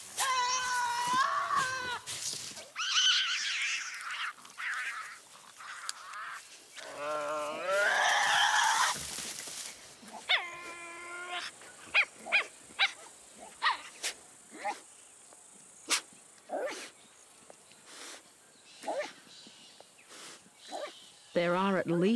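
Tasmanian devils vocalizing, with harsh growling and screeching calls, arf-like sounds and barks, loud and close at first, then sparse short yelps and clicks over a quiet background.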